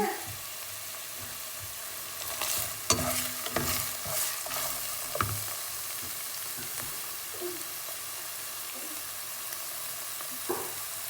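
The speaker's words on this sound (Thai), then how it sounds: "ผัดไฟอ่อน ๆ นะคะ มันก็จะหอม" Green curry paste is stir-fried over low heat, giving soft sizzling and scraping utensil strokes against the pan in irregular bursts, fairly quiet and close.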